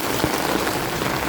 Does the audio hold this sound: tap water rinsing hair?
no